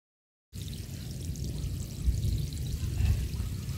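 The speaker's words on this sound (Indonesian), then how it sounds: "Kegiatan rutin tiap pagi juga dilaksanakan penyiraman ya, menggunakan selang drip." Water from a drip hose irrigating bitter gourd plants flows steadily after a sudden start, a continuous soft pouring and trickling hiss that holds at an even level without interruption.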